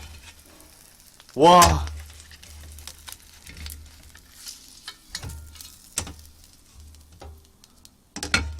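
Eggs frying in a small pan over high heat give a quiet, intermittent sizzle broken by a few sharp clatters, with one brief spoken exclamation near the start.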